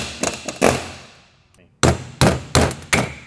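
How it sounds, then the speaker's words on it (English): A pneumatic air hammer knocks out the set screws on a Tesla Model 3 brake rotor in a series of loud, sharp bursts, two early, then a pause, then four more in steady succession, close and harsh. "we are going to have to air hammer these out"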